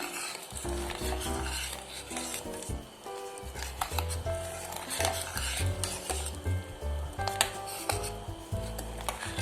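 Thick jaggery syrup, a home cold-and-cough remedy, bubbles and sizzles in a pot while a spoon scrapes and knocks steadily against the sides, close up with no talking.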